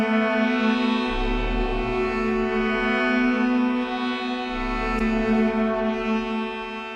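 Synthesizer lead track from a Moog Model D, a sustained, harmonically rich tone holding steady with a subtle low pulse underneath, clear and alone throughout.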